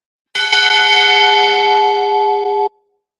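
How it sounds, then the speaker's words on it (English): A single bell rings out, bright and sustained with a strong clear tone, then stops abruptly after a couple of seconds, heard alone in the quiet. "And I want all the bells to ring in Jacksonville and everywhere."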